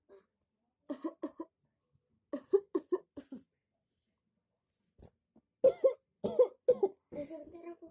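Repeated bursts of coughing in short clusters, a run of three or four then another set, followed by heavier, louder coughs and throat clearing indoors near the listener; a child-like voice is briefly heard.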